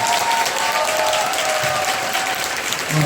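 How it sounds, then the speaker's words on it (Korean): A large indoor crowd of about 350 at a Korean lecture event breaks into loud, dense, continuous applause that holds steady for the full three seconds. "큰 박수 부탁드립니다"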